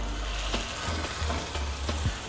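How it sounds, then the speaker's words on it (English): A turkey burger sizzling in a hot frying pan, steady close crackling with a few soft scrapes and taps of a spatula, no talk. "That's what you want to hear, that nice sizzle."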